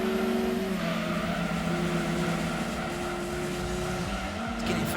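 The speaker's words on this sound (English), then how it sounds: "Oh, this RX-7 sounds cool." Mazda RX-7 race car engine in Gran Turismo 2, a steady high-revving drone with sustained engine tones and some tire squeal, loud and continuous for the whole stretch with no talking.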